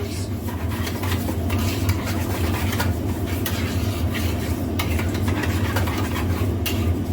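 Breakfast ingredients are stirred in a bowl, a close scraping, rubbing swirl with small clinks that repeats steadily over a low background hum.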